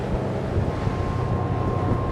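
A motorboat powered by three 425 hp Yamaha outboards runs at speed, with a dense engine roar, rushing water and wind buffeting the microphone.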